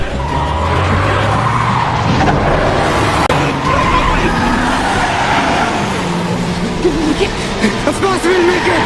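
A car pulls away hard with tires skidding and squealing, engine noise loud and close as people shout over it in a tense chase scene from a film.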